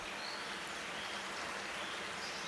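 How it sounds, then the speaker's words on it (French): A stream in the African savanna flows steadily with a soft, continuous rushing sound, fairly faint and unbroken, with no voices. "elle entend le ruissellement du cours d'eau"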